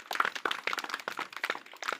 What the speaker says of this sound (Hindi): ताली बजाइए अगर सही है।